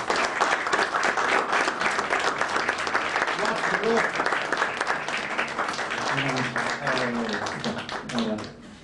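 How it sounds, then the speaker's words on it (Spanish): Welcoming audience applause for a Mexican actor at a talk event; full, steady clapping from a crowd with voices mixed in, tapering off at the end. "Le pido un aplauso así, normal, de bienvenida, al actor José Alonso Gálvez Torres."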